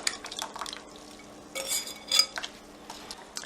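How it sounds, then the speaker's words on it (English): A utensil stirs bloomed gelatin into a pot kept at a very low simmer, giving faint, irregular scrapes and clinks against the metal over quiet background noise. "Stir in the bloom gelatin to a just very low simmer."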